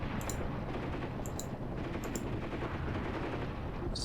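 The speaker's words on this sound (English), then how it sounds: "You get caught in the artillery barrage." Artillery barrage and gunfire in the tactical war game Graviteam Tactics: a steady dense rumble of explosions with scattered sharp cracks of shots layered throughout, fairly loud and continuous with no talking.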